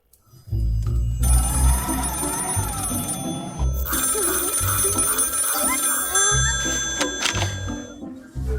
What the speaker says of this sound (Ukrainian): Напевно, подзвонимо до вежі управління польотами.